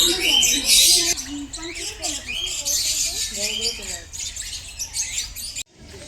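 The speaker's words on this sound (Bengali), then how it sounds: "মনে হচ্ছে এটা ইউনিক পাখি, সবার থেকে আলাদা করে রেখেছে এটাকে" Birds chirp and squawk in bright, repeated bursts at Alipur Zoo in Kolkata, while a person speaks throughout. The calls are busiest early on, and there is a brief drop near the end.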